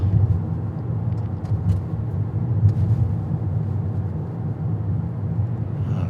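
A car drives down Boswell Avenue, a 25 mph residential street in Greeneville, Norwich, Connecticut, heard from inside as a steady low road rumble and engine hum that stays even throughout, with no talking.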